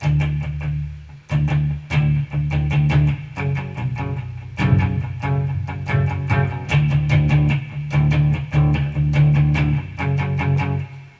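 Strummed acoustic guitar chords with deep bass notes ring out in a steady rhythm, loud and close, with brief pauses between phrases and no voices.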